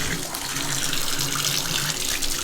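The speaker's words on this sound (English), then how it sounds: "I think I'm actually gonna put them in the sink and get the sink completely full of super, super hot water" Hot water gushing from a tap into a sink being filled, a loud, steady, unbroken splashing rush from start to finish.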